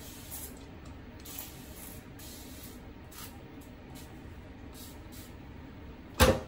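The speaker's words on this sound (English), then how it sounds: "I'm gonna spray my hair to make sure, you know, we are getting hydrated" Fine mist spray bottle used on hair while hiding the grids on a lace wig, a series of short soft hissing bursts spaced irregularly over quiet background, ending with a louder clatter.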